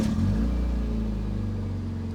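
A Mazda MX-5 engine, running without its exhaust, cranks, catches and revs up loudly, then settles into a steady, rumbling idle close by.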